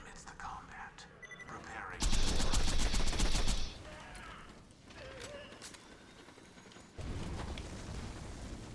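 Rapid gunfire in the shooter game Borderlands 2, a dense automatic burst lasting under two seconds, then a quieter stretch and another shorter burst, with soft voice-like noise between.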